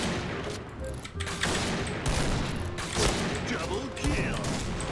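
Repeated sniper rifle shots from a Winchester in the online shooter Point Blank, sharp cracks with mechanical bolt clatter between them, loud and close over steady game noise while someone talks.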